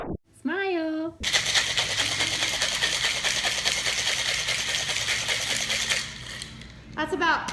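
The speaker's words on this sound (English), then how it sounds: "That's about 20 vigorous shakes, and I say vigorous shakes because we want the ice flecks, shavings in our drink" A cocktail shaker full of ice shaken vigorously for a lemon drop martini, a dense, rapid rattling that runs continuously for about five seconds, framed by brief speech before and after.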